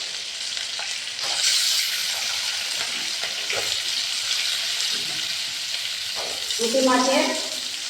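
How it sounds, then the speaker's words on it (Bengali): Onion, chilli and potato fry together in oil for a thin puti fish curry with tomato, giving a steady, close sizzle and hiss throughout, with a person talking briefly near the end. "পেঁয়াজ লঙ্কা আলু সব একসাথে ভেজে নেব।"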